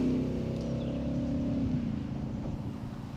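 A new Ford Mustang goes by on a quiet country road, its engine a loud, low rumble right from the start that slowly fades as it pulls away, with no talking.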